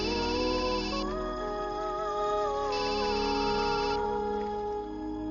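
A phone rings with a repeating electronic ringtone melody, loud and close, playing continuously with no talk over it, in a comic Telugu film scene.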